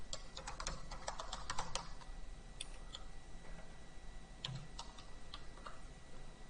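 Fingers tapping out a web address on a computer keyboard in quick, uneven bursts of light clicks, closer and denser at first and then sparser, over a steady low room hum.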